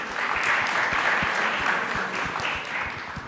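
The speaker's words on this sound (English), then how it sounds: "please give a huge round of applause for our guests who are present here" A large audience applauds guests at a youth event, sustained dense clapping throughout with some sharper individual claps standing out near the front.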